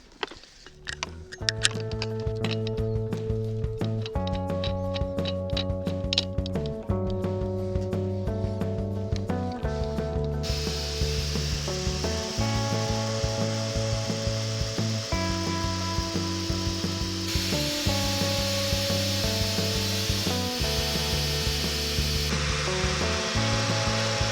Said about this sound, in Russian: Вот такая вот насадка, щетка с проволокой.